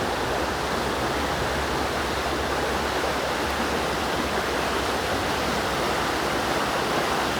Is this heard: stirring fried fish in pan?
no